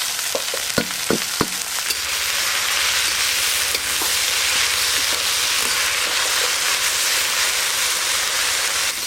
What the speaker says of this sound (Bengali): সজনে শাক এই যে এইভাবে একটু ভালো করে চালিয়ে চালিয়ে মিলে দিয়ে এইভাবে ভাজতে হবে